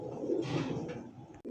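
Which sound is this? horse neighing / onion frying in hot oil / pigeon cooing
pigeon cooing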